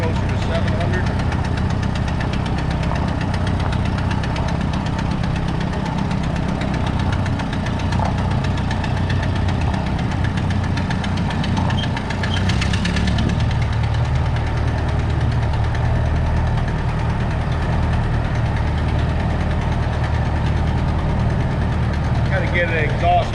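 A fire truck's large diesel engine, with a blown exhaust manifold at cylinder number 4, idles loudly up close with a rough, rhythmic knocking and ticking, running continuously throughout.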